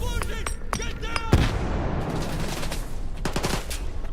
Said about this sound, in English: who's shooting me over here?